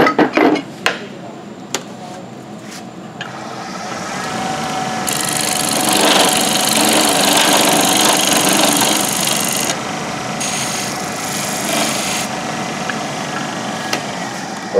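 A parting tool cuts into a segmented wood bowl on a lathe. A few sharp knocks come first, then a loud, sustained scraping whine of the cut over the lathe's hum, briefly easing partway through.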